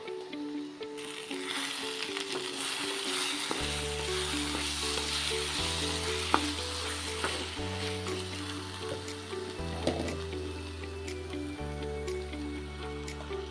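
Washed spinach is tossed into mutton frying in a pan, giving a continuous close sizzle with stirring and squishing sounds, while a steady tonal melody plays underneath.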